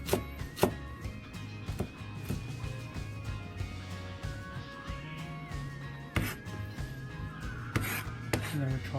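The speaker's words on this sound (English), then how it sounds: "And then we chop it." A knife chops lamb for a dumpling filling with a run of firm, uneven thuds on a board, some close and sharp, others softer, in quiet surroundings without talk.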